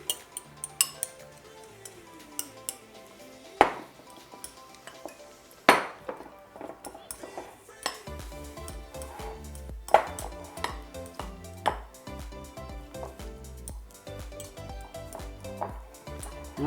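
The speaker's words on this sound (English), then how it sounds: "With the egg yolks, what we're gonna do is just break them up." Egg yolks being broken up in a dish for crab salad: light utensil clinks and taps against the dish, scattered and irregular, with a few sharper knocks and quieter scraping between them, fairly close with no talk.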